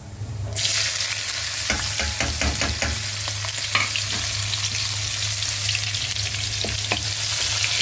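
Cumin, ginger, garlic and red and green chillies hit hot oil with a loud, sudden sizzle that keeps crackling steadily, while a spoon scrapes and taps the pan in quick bursts over a low hum.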